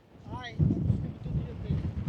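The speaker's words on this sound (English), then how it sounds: "I'm not going up, it's too bloody windy" Strong wind buffets the microphone in low, gusty rumbles on the rocky hill The Cobbler, with a voice briefly heard under it.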